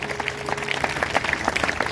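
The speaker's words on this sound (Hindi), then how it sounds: "अगर आ रही है तो प्रभु के लिए जोरदार तालियां बजाएंगे।" A church congregation at a Sunday sermon breaks into brisk, dense applause, a steady patter of many hands clapping together at moderate loudness for under two seconds.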